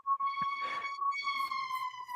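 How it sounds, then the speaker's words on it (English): A steady high-pitched siren tone sounds throughout with a short hiss in the middle, fairly faint and distant, no talk. "That's a siren in the back."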